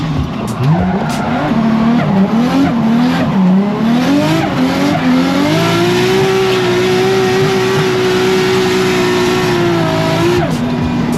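A drift car's engine roars continuously as tires squeal and skid at Castle Combe Circuit, a rising, sustained whine of the car sliding sideways at speed, loud and close.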